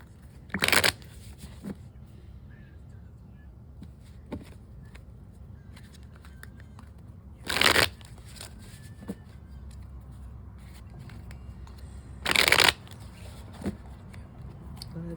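Tarot cards are shuffled three times in short, crisp riffling bursts separated by quiet pauses, close to the listener with faint background noise.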